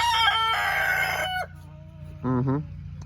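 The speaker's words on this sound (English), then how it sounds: "Then we have our chickens and a rooster." A homestead rooster crows loudly and close, a long call followed after a pause by a shorter second crow, over steady low background noise.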